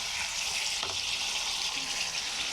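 Spice paste frying in a pan for Bengali prawn malaikari while coconut milk is stirred in, a steady soft sizzle close by with faint scraping and stirring, no talk.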